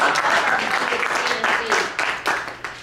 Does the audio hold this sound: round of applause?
yes